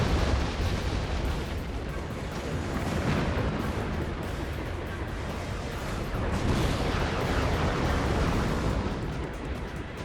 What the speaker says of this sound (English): Some missiles.